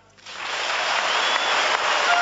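A capacity crowd at a 2012 Copenhagen Masters badminton match breaks into loud, sustained applause for Chinese player Lin Dan, swelling quickly from near quiet into a dense, steady wash of clapping.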